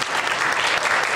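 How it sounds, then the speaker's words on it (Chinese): A church congregation at a worship night applauds, a dense and steady burst of many hands clapping loudly throughout. "我们给他们一个掌声"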